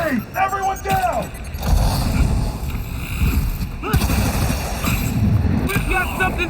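Blasts and gunfire in Spider-Man Miles Morales as an enemy throws a grenade, with a rumbling explosion and noisy combat filling most of the stretch while voices shout over it.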